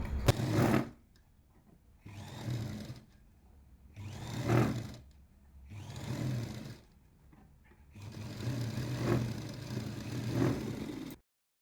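A sewing machine stitches the lining of a 40-inch jacket in four or five separate bursts of rapid whirring, each a second or two long, with quiet pauses between.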